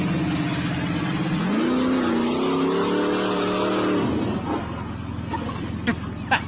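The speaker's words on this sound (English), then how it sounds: "The loudest car, dude." A loud muscle car revs hard, its engine note climbing in pitch and holding a strong, harmonic-rich roar for a few seconds before cutting off abruptly, followed by quieter background noise.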